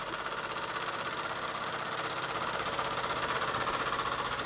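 An American Weeden 500 model steam engine, fired by a small Bix gas burner with no regulator, runs steadily with a fast, even mechanical chatter throughout, close by and alone.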